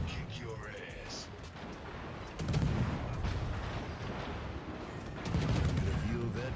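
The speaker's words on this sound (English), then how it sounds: "Check this out. It's like 7-kilometer secondaries." Rapid secondary gun batteries on a Tier X French destroyer, the Marceau, in World of Warships, crackling in dense bursts of gunfire with heavier booming volleys around the third and fifth seconds, continuous and loud throughout.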